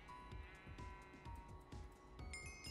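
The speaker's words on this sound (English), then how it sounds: "There's 5 sheep there." Several sheep bleating in a Minecraft-style video game, spawned in as a Twitch channel point reward; repeated overlapping bleats recur steadily at close range over a constant background tone.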